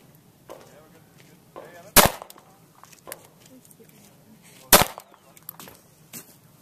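Two sharp handgun shots ring out a few seconds apart at an outdoor handgun shooting match, with quieter clicks and handling noises between them and people talking.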